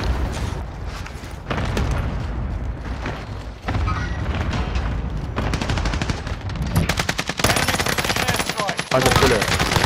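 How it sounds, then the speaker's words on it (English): Gunfire in Call of Duty on Rebirth Island: dense automatic bursts and single shots crackling in rapid, irregular volleys, loud and close throughout, with a few brief voice fragments mixed in. "Taking fire."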